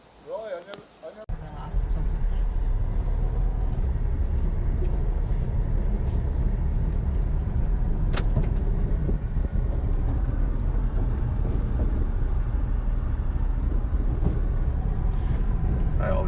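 Steady broadband road rumble of a car driving over a rough, unsettling surface near a rural homestead, continuous and fairly loud after a brief quieter opening, with engine and tyre noise dominating throughout.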